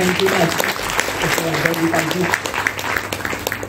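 Audience applause at the concluding session of a Marathi lecture series on Geet Ramayan, a dense, steady clatter of many hands lasting several seconds, with a voice talking over it.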